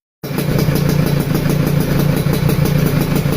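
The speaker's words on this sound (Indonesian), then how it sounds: "bunyi knalpot yang memiliki ciri khas yang sangat nyaring" A two-stroke motorcycle exhaust crackles and rattles loudly and steadily at close range, buzzing with a fast, uneven pulse.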